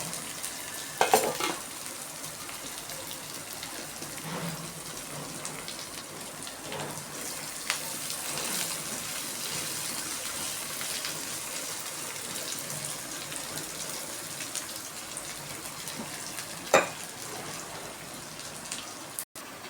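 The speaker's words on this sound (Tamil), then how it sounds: "டக்குன்னு வதங்கணுன்னா லைட்டாக சால்ட் போட்டுட்டு நல்லா வதக்கிக்கோங்க" Chopped onions sautéing with a little salt in a frying pan for a banana stem curry, a continuous soft sizzle broken by occasional scrapes and stirs of the spatula, close and steady with no talking.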